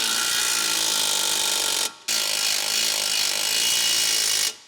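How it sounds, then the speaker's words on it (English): An electric wrench with an 18mm deep socket drives strut and lug fixing bolts on a 2012-2015 Chevrolet Cruze, two loud sustained whirring bursts separated by a brief pause, then cutting off. "Use an 18mm deep socket with an electric wrench to tighten the shock absorber and lug fixing"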